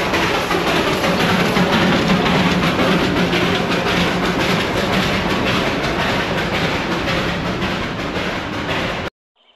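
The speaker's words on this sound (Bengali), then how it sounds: "আর আস্তে আস্তে ট্রেনের সাথে দেখা হয়ে গেল" Darjeeling toy train rolling near Batasia Loop, a steady close rumble with rhythmic clickety-clack of wheels over rail joints and a low mechanical hum, continuous for about nine seconds before cutting off abruptly.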